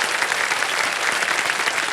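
Studio audience applause on the quiz show KBC, a dense, steady, loud wash of clapping with no break, and no voices above it.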